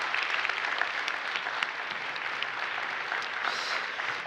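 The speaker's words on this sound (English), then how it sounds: "Big round of applause." Sustained applause from a conference audience at a vocational excellence forum, a dense steady patter of many hands clapping throughout with no talk.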